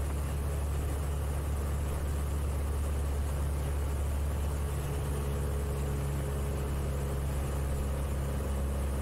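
A light aircraft engine drones in flight as a constant, low, even rumble heard from inside the cabin, with RPM being reduced and no clear change in the steady hum.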